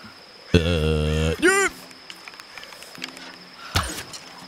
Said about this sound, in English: Why do I feel like I hear a deer?